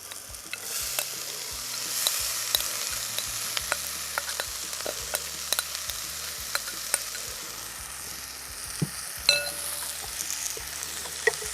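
Green gram (cherupayar) sautés in a pan with a steady low sizzle and repeated sharp scraping clicks of a spatula stirring throughout, close and alone, no voices.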